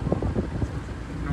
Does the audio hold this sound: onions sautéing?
no